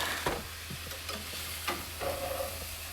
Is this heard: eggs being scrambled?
yes